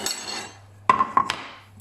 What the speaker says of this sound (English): It's making a bit of noise. I'm doing it on a plate here.